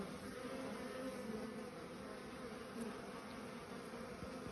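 Honeybees drone in a steady, dense buzz at an open hive frame from a Buckfast or Irish Black colony, close and continuous throughout with no voices.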